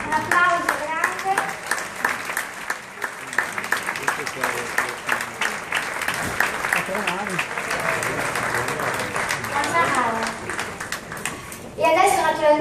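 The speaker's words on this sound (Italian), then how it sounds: "Un applauso grande." A crowd on a cruise ship christening and vernissage event applauds a partner from China, with loud, sustained clapping mixed with a presenter's voice and some chatter, swelling again near the end.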